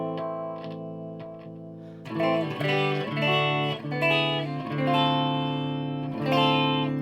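An electric guitar strums chords through a Box of Rock distortion pedal kit with a slightly crunchy, mildly distorted tone, starting with a few lighter plucked notes before fuller strummed chords ring out.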